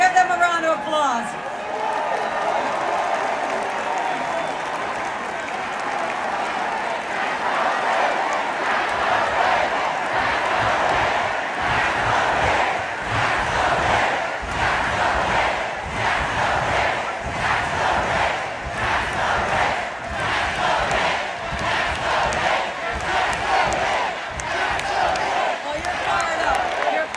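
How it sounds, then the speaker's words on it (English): A large crowd at an election rally in Queens, New York, cheers and applauds steadily; rhythmic clapping and loud whooping fill the space, with voices shouting throughout. "Give them a round of applause."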